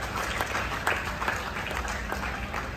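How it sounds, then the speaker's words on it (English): An audience applauding at a school prize distribution for interschool chess and badminton championships in Patna. Steady, even clapping from a room of people runs for a few seconds, moderate in level and without speech. "Applause for all of us"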